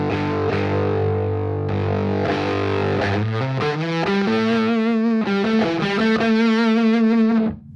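An electric guitar runs through stacked Two-Face and fuzz pedals and rings out as heavily distorted, thick chords, then gives way to sustained, wavering fuzzy notes that cut off abruptly at the end.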